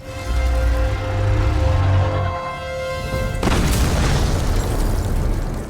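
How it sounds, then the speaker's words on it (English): A world tree sap explosion in a God of War game: a sustained tonal rumble gives way to a loud, deep booming blast that rolls on and decays, with no voices. "The resulting explosion forms a wound that would drop any monster instantly."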